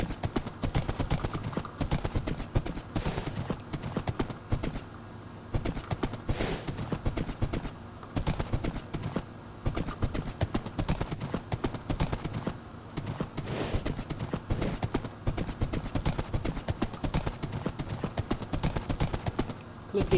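Horse hooves clip-clop steadily in Minecraft Bedrock Edition, a fast continuous run of close, even hoofbeats with a voice speaking over them.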